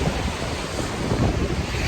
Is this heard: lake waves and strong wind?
yes